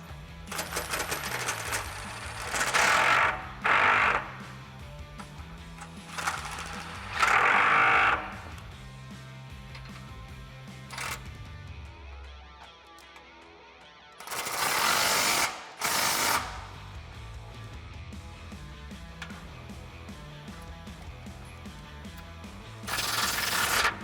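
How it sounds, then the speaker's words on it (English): A socket wrench ratchets in short bursts while tightening 21mm bolts on a Jeep Wrangler JL rear bumper, with clicking mechanical runs separated by pauses, close and fairly loud. "So now we can start tightening everything up with the 21mm socket."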